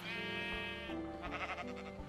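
Sheep in the Minecraft video game bleat with a wavering, nasal call that repeats two or three times in close succession, fairly close and clear, with no talking over it.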